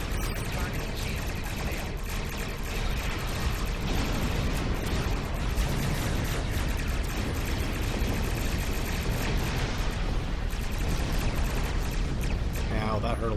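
Starship weapons fire and explosions rumble and crackle continuously in a Star Trek Online space battle, a dense, loud barrage with voices talking over it.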